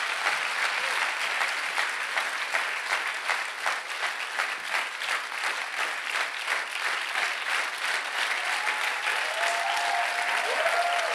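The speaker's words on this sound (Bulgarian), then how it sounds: "Хайде ръкопляска, ако вярваш, че ще стане." A church congregation claps steadily for about eleven seconds, a dense sustained applause with a faint rhythmic pulse, moderately loud and filling the room, with a brief voice near the end.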